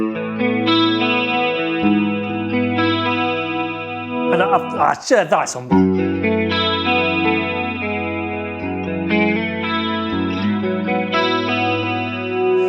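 Clean electric guitar chords, played on a Patrick James Eggle Macon through a chorus pedal, ring out with a shimmering, wavering chorus effect, interrupted briefly by someone speaking mid-clip.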